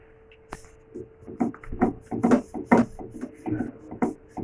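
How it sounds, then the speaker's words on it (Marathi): A rolling pin rolls out stuffed aloo paratha dough on a board, making soft, close rubbing and thudding strokes in a steady back-and-forth rhythm. "हे मी आता लाटून घेते"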